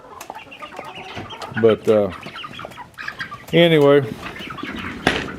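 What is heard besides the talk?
chickens clucking and flapping wings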